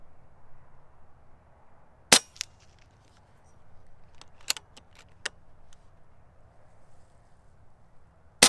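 Shots from a Benjamin Akela .22 caliber PCP bullpup hunting air rifle, heard as sharp isolated cracks: a loud one, then a few fainter snaps spaced apart, with a final crack at the end over quiet background.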